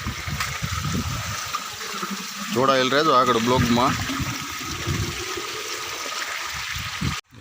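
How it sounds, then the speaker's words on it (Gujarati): Farm water flowing out of a pipe while drinking water is filled, a continuous rushing, gurgling stream close by, with someone talking over it partway through. "ચાલો આપણે પીવાનું પાણી ભરી લઈએ"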